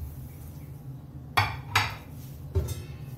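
A pot holding pears for red wine pears is set down with clanks, three distinct metallic knocks, the first two close together and the third a moment later, over a low kitchen hum.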